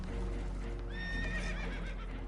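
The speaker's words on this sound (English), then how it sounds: "Horses are spooked, and we're taking on water." Spooked horses whinny in Red Dead Redemption 2, a shrill neighing call rising over a constant low rumble of water and a boat, with faint hoof clatter; no speech.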